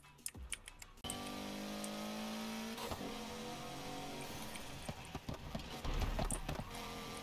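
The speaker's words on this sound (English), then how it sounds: "god, that turbo sounds nice." A turbocharged car engine in the racing game Need for Speed Heat revs hard and sustained after a brief pause, its steady drone holding loud for several seconds with sharp clicks and rattles on top.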